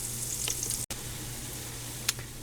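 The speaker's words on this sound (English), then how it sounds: "I'm just going to fry these up" Italian sausages, onions and peppers sizzle steadily in a pan, a constant close crackle with a brief break near the middle and a few sharper pops.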